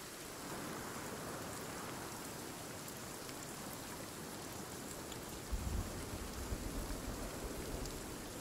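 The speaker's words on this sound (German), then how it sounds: "Nervt schon hart der Regen, ne?" Steady rain in the survival video game Sons of the Forest, a dense, even hiss of falling drops that runs continuously at low level, with a few faint soft thumps partway through and no talk.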